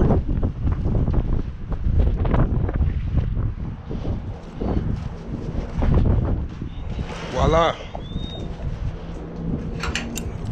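Gusty wind buffets the microphone beside a flatbed truck as a tarp is pulled off a steel coil load, with rumbling bursts and a bird call, and someone talks intermittently throughout.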